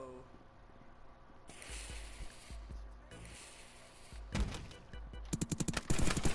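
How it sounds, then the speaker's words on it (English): Gunfire in the VR game Rec Room: a string of sharp shots that builds into rapid repeated bursts toward the end, fairly close and loud, with game noise between the volleys. "Hey, why are you shooting me?"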